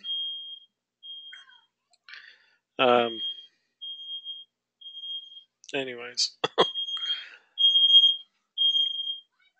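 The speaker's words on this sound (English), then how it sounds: "smoke alarms going off" A smoke alarm beeps in short, regular high-pitched bursts, repeating steadily while a person speaks between the beeps.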